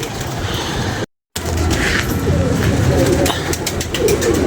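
Pigeon cooing in a rooftop loft, low and steady beneath constant background noise and some talk, cut by a brief dropout near the start.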